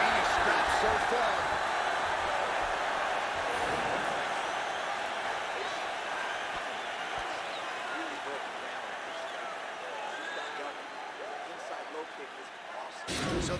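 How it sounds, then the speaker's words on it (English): Arena crowd cheering and applauding after a round in the video game UFC 4, a steady broad roar of a large audience that slowly fades over several seconds. "So the crowd voicing its appreciation after that round."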